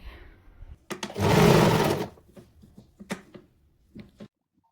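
A sewing machine whirs in one fast, steady burst of about a second, stitching along a fold of cloth for a small deity doll's dress, surrounded by soft clicks and fabric handling; no voices.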